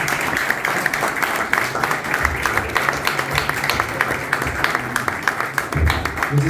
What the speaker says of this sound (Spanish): vamos a pedir un aplauso para Fernando.